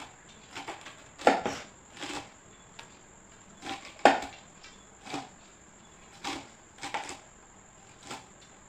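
Fenugreek leaves being finely chopped with a knife on a board, with sharp, uneven taps coming in small clusters, close and fairly quiet, under a constant high insect drone.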